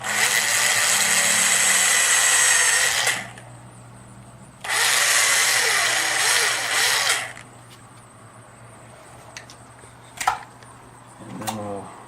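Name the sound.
power drill drilling into door hardware hole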